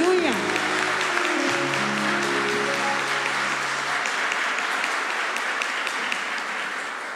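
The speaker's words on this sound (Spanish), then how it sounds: "Un aplauso al Señor que está con nosotros." Broad, continuous applause sweeps through the gathering at an Advent religious retreat. A brief voice opens over the start before the clapping carries on alone, steady and full.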